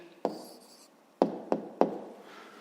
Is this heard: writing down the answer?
yes